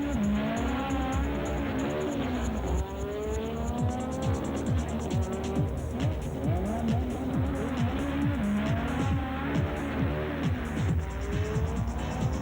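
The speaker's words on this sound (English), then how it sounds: "let's take a ride in my Volkswagen" Volkswagen car driving, a loud continuous engine roar with rising and falling revs as it accelerates and shifts, heard up close over steady road noise for the whole stretch.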